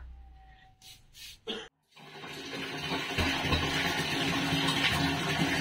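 Cold water runs steadily from a faucet in a campsite comfort room on Mt. Pulag. After a few brief knocks and a short gap, a continuous close rushing stream fills the rest of the clip.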